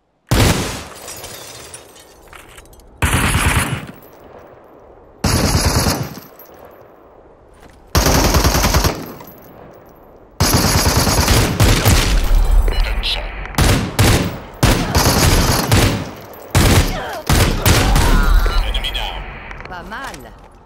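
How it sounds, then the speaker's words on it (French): Automatic gunfire in the Super People shooter game, loud and close: short separate bursts at first, then a longer stretch of near-continuous rapid firing with brief gaps. "Visez à l'aide du clic droit de la souris, puis tirez avec le clic gauche."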